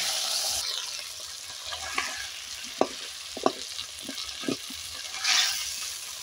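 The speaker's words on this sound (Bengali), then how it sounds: "আর দিয়ে দিচ্ছি এই যে মাছের মাথা। এটাকে ভেজে গুঁড়ো করে নেব।" A fish head fries in fish oil with a bright, steady sizzle, punctuated by several sharp knocks and scrapes of a spatula stirring the pan, and a brief surge of hissing near the end.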